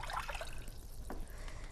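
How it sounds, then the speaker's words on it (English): Two cups of water going into a pot of pasta sauce on the stove make a soft, continuous trickle and splash lasting under two seconds, close by and fairly quiet, with no talking. "we're going to add these 2 cups of water."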